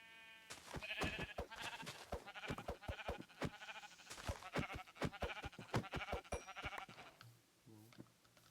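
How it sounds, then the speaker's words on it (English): Sheep bleat repeatedly in a video game set in a cold, green landscape, a rapid series of close, clear calls that run for several seconds before trailing off. "There are sheep for me to punch."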